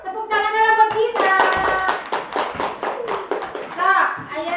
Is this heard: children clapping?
yes